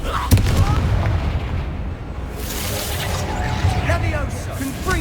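Confringo, the fiery explosion spell in the Hogwarts Legacy video game, fires off a sharp blast followed by rumbling booms and whooshing bursts, mixed with game voices and sounds.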